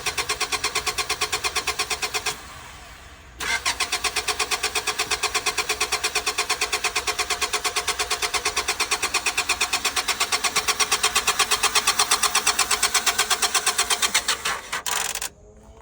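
A car engine at a towing auction cranks over and over in a fast, steady rhythm without firing, pausing briefly once, then resuming until it stops.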